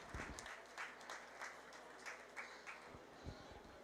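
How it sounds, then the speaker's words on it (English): Applause for the champion market heifer exhibitor at a county 4-H fair beef show, a steady wash of crowd clapping that holds at an even level for several seconds with a few sharper claps poking through. "Let's give our champion Market Heifer,"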